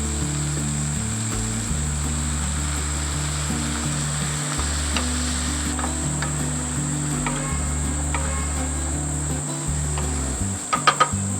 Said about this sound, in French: Je mets mes gombos découpés. Je vais mettre juste un peu d'eau pour le laisser cuire.